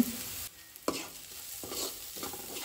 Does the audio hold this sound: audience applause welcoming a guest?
no